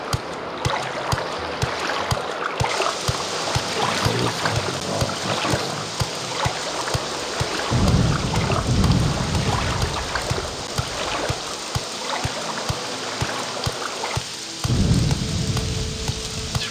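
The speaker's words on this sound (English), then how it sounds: "It's raining, there's a thunderstorm." Steady rain pours throughout in the video game The Elder Scrolls III: Morrowind, with deep rolls of thunder rumbling in twice, loud and close.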